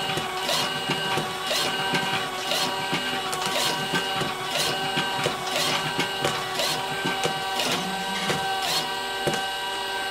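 An automatic carton labeling machine runs steadily with cartons fed in continuously, a busy mechanical whir broken by regular sharp clacks and ticks about once a second, close and without talk.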